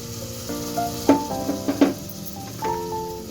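Something fries in a pan while egg pulusu is cooked, a steady soft sizzle with a few sharper stirring clicks and scrapes of a utensil against the pan.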